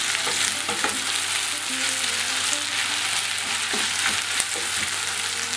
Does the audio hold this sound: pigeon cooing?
no